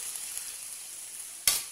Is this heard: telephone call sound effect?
no